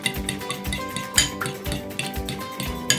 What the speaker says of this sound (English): we are going to beat the egg